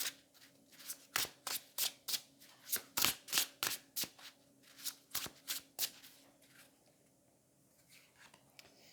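Muse Tarot and oracle cards shuffled by hand: a long, quick run of crisp papery riffles, close but quiet, that thins out and falls almost silent in the last few seconds.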